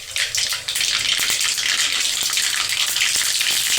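Cumin seeds sizzling in hot oil with mustard seeds for a chana dal tempering, a loud, dense crackling hiss that surges as the seeds hit the oil and then continues steadily, close by with no talk.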